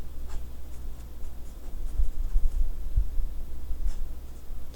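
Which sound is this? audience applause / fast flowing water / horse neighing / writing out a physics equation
writing out a physics equation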